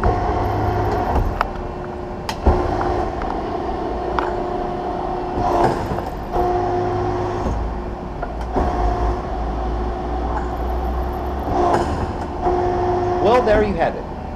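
A Cincinnati FM135 hydraulic press brake running with its tonnage control turned up, giving a steady hum with tonal whines that rise and fall in repeated cycles, along with intermittent clanks and a person talking.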